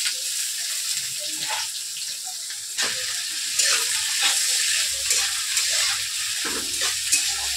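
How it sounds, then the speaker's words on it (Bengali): Vegetables frying in a pan on a gas stove give a steady, close hiss and crackle that continues without a break, with small pops and bubbling spots scattered through it. "গ্যাসটা কমিয়ে ঢেকে ঢেকে ভাজবো"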